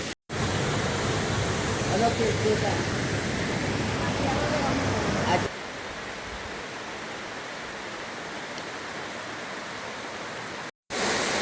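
Salto de la Bruja, a waterfall in a national reserve in Peru's Amazon foothills, gives a steady broadband roar of falling water that drops to a softer, more distant rush partway through.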